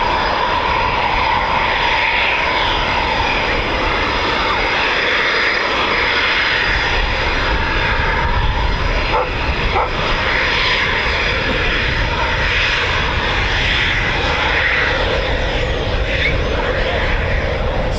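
A Eurofighter Typhoon FGR4 jet departs at an RAF air show, its loud, continuous engine roar filling the whole stretch and holding steadily, with no voices over it.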